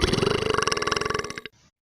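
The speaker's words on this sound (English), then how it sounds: "That was sure a lot of burping." A long, loud, close burp rattles in rapid pulses for about a second and a half, then breaks off with a brief faint trailing breath.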